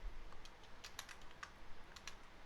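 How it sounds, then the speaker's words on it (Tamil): A sentence typed on a computer keyboard: a quiet, irregular patter of light key clicks, close but faint, with no talking. "நான் இப்போ கொஞ்சம் பெரிய சென்டென்ஸாக டைப் பண்ணிக்கிறேன்"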